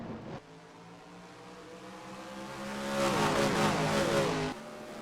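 Stock cars in the NASCAR Racing 2003 video game roar around Richmond, a sustained engine drone that swells as cars pass close, then drops off abruptly.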